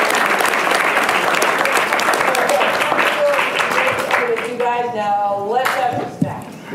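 Loud audience applause after a talk, a thick wash of clapping that gradually thins out, with voices and some tonal sound emerging toward the end.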